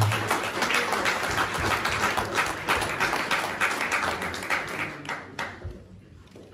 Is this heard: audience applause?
yes